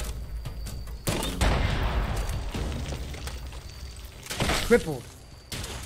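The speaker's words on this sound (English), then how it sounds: "Keep shooting it." Gunfire in the post-apocalyptic game Fallout 76 during a fight with a giant beast, loud bursts and booms packed together with an impact around the middle, under excited players talking.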